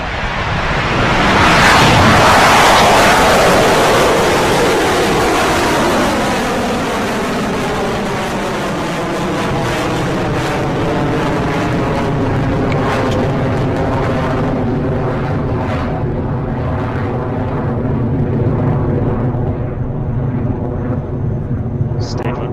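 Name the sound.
Electron rocket engine start and launch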